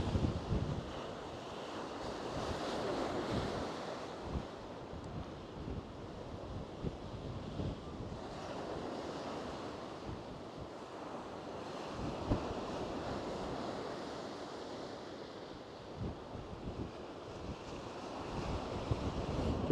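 Wind and surf roar steadily along the seafront at Lowestoft on a windy day, a broad rushing wash with gusts buffeting the microphone and rumbling bursts throughout.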